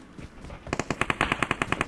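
Rapid automatic gunfire from PUBG Mobile, a steady burst of about a dozen sharp evenly spaced shots that starts partway in after a quieter lead-in.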